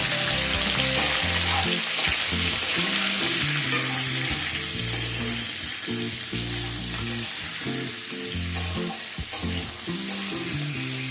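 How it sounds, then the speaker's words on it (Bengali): Drumsticks and potatoes fry together in a pan for a Bengali danta aloo jhal, giving a loud, steady sizzle throughout with repeated scraping stirs of a spatula and no talking. "এবার ডাঁটা আর আলু একসাথে আরও প্রায় মিনিট 2 সময় নিয়ে ভেজে নেব।"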